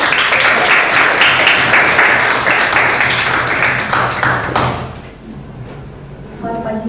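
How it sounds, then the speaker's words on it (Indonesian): A classroom of students applauds as group 1 is called up to present. Dense, loud clapping runs for several seconds, then fades out, with a few voices at the end. "Beri tepuk tangan dong"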